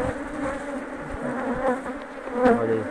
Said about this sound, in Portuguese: Olha como é que tá. Colmeia muito forte.